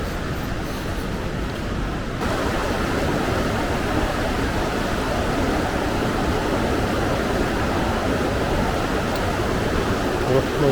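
A Himalayan river rushes beneath a suspension bridge on the Shey Phoksundo trek, a steady, broad roar of flowing water filling the whole stretch without pause.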